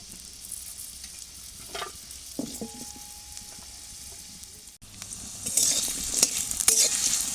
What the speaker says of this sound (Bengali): তেলের উপরে আমি আলু দিয়ে দেবো।